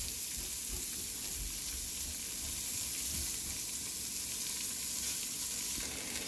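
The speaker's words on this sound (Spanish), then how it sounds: "voy a agregar la cebolla. Voy a dejar que se guise un poquito" Onion sizzles and fries in a pan for picadillo de gallina, a steady close crackle with faint stirring and no speech.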